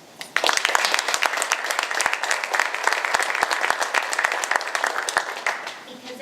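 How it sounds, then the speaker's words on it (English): A crowd at a Woman of the Year award ceremony applauds the nominees, with dense, steady clapping that starts suddenly, keeps going for several seconds, and then fades slightly near the end. "I'd also like a nice round of applause for my fellow nominees."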